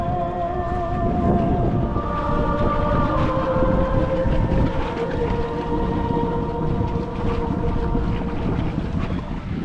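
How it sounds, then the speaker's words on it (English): Sailboat motor sailing under engine power in light wind at night, with a steady, continuous drone and hum of the running engine blended with wind and water noise throughout, loud and unbroken. "So I'm just motor sailing."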